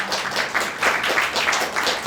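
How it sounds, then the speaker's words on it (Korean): Applause from a seated audience at a Korean public event as a guest is introduced, a steady wash of many hands clapping at moderate volume throughout. "여러분 환영의 박수 부탁드리겠습니다."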